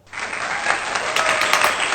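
A short burst of dense applause rises quickly and holds steady for a couple of seconds, heard alone with no voices over it.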